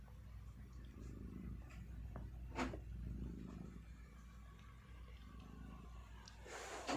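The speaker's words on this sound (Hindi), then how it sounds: "ये देखिए बिल्ली के खराटे सुनिए।" A cat snores in deep sleep on a cold winter day in Delhi, soft rhythmic rasping breaths rising and falling slowly, faint and close, with no voices.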